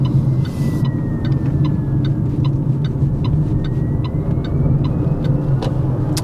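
Fiat Grande Panda merging onto an expressway, a steady loud road rumble of engine and tyres filling the cabin throughout, with no talking.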